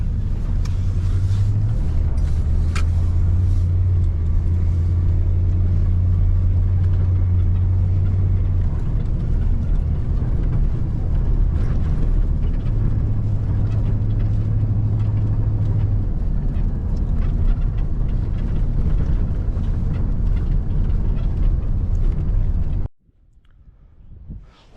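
A second-generation Dodge Ram pickup rumbles loudly over a bumpy road, its engine drone and rattling jolts continuous for over twenty seconds before cutting off abruptly into near silence.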